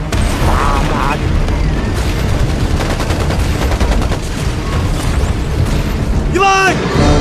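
Artillery bombardment in a war drama about fighting the Japanese army, with dense continuous booms and gunfire rumbling loudly throughout, a shouted voice briefly rising near the end.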